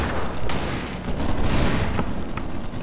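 Video game gunfire with dense, continuous rattling shots and booms, loud and sustained with no pauses.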